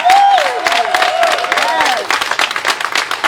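A crowd at a tribute event applauds the Yonkers PD women, with loud clapping and cheering right away and excited voices and whoops rising over the applause before it thins out.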